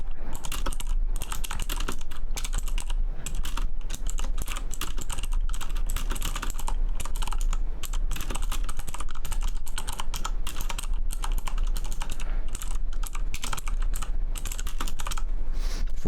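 Fast, continuous clatter of keys on a computer keyboard during a typing test, dense and close-miked with no pauses.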